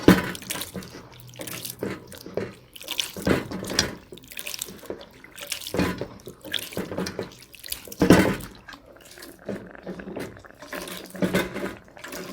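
Coconut is squeezed by hand through a strainer, making irregular wet squishing, splashing and dripping bursts that rise and fall, close by, with no talking.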